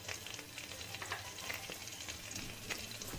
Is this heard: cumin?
yes